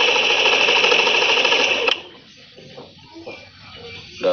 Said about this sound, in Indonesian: Kemudian langsung saja kita coba untuk menghidupkan motor ini.